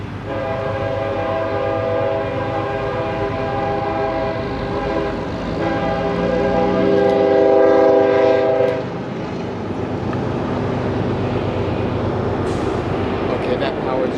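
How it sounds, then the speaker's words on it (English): A CN freight train rolls past at a busy Midwest railfanning spot, its steady loud rumble joined by sustained horn blasts in the middle, with wheel noise continuing afterward and voices faintly under it. "And now, it's the CN train's turn."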